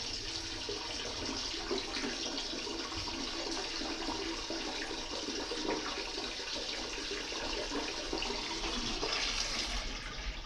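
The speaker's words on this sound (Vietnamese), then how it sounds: "mình nghe nước nó chảy, hình như nó đang xuống rồi các bạn" Water rushing and gurgling steadily down a toilet bowl just cleared of a clog, a continuous close draining wash that stays even throughout with no voices.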